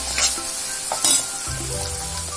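Tomatoes cooking in a pan for a cluster beans gravy fry sizzle steadily at close range, with stirring scrapes cutting in, loud and without speech.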